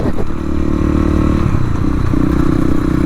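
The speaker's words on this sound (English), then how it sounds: "Going for a gear change." Honda CRF 250L motorcycle ridden off-road with a loud steady engine drone and wind rumble, the pitch dipping briefly as the rider changes gear, then settling again.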